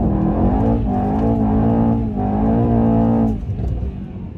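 A 2018 Mercedes-AMG E63 S in drift mode accelerates hard, its engine roaring loud and close with rising revs, a brief dip at a gear change, then a rougher, shifting note near the end.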